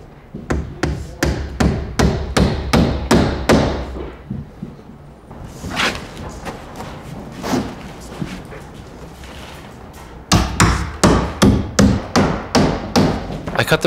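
A hammer fastens panel edges around a curved wall, with quick runs of sharp, close blows, then a quieter gap with scattered knocks, then another brisk rhythmic run of strikes.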